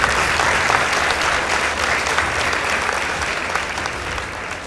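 Sustained audience clapping at a school debate between St. Joseph's Girls High School Kitale and Nasakol Girls Secondary School, loud and even throughout and easing only slightly toward the end.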